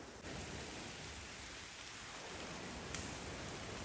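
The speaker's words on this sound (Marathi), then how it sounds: "मित्रांनो भरपूर पाऊस चालू झालाय" Heavy rain pours down in a forest near Satara, a dense and even hiss of downpour on leaves and ground that fills the whole stretch with no voices.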